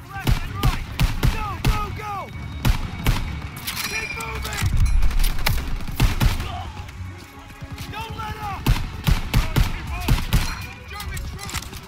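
Gunfire in a World War II combat scene from Call of Duty WWII, with machine guns firing from a barn: sharp, rapid cracks in bursts, mixed with shouted voices and other battle noise.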